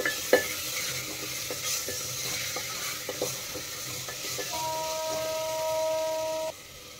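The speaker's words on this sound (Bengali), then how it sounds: "এখন নেড়ে চেড়ে ভালো করে কিন্তু মশলার সাথে আলু কষিয়ে নিতে হবে।" Potatoes frying with ground spices and salt while being stirred in a pan, soft scraping strokes over a low sizzle, with a steady electronic beep near the end.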